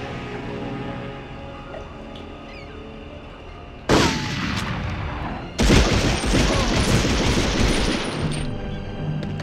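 Heavy gunfire from Medal of Honor on the PS1: sustained bursts of rapid shots and booming blasts that grow louder and denser partway through, over a steady game soundtrack.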